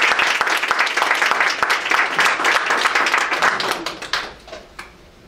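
An audience at the close of a talk on badges at MSU breaks into loud, dense clapping that holds steady, then thins and trails off into a few scattered claps, with a voice briefly heard over it.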